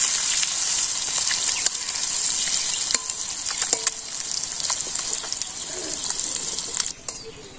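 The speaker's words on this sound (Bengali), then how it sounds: "ডিম বাজলে ফস ফস ফস ফস শব্দ করে" Eggs frying in a pan in a village kitchen, a steady bright sizzle running throughout with small pops and crackles, fairly close and continuous, briefly dipping near the end.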